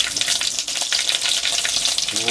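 A steady, close hiss and crackle of green chilies frying in hot oil, with faint stirring noises.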